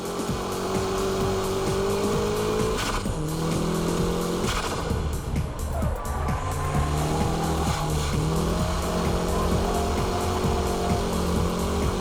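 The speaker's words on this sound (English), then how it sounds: "Show drifts keeps drifting from the entrance to the exit." A car holds a long show drift through a corner at Ebisu circuit, its engine droning steadily while tires squeal continuously for several seconds, with no one talking.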